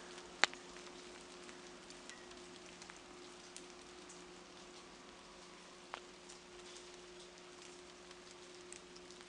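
Light drizzle pattering steadily on surfaces during a quiet outdoor autumn walk, a soft continuous hiss with a few faint ticks and drips, fairly quiet and without talk.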